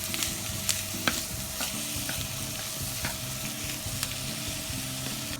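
Garlic asparagus cooking in a pan gives off a steady, close sizzle, broken by occasional clicks and scrapes of stirring, with no voices.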